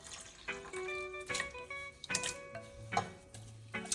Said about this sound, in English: want to do now is to add our mixture to our water